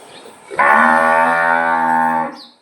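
A bullock lets out a single long, deep moo close by, sustained for nearly two seconds before fading, with only faint background noise around it.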